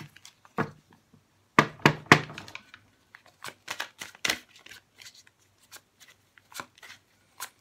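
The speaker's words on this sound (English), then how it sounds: "We'll give them a really good shuffle so we can see what we've got coming up for you." Thelema tarot cards being shuffled by hand, with soft riffles and several sharper taps and thumps of the deck in irregular bursts, quiet and close, with no talking.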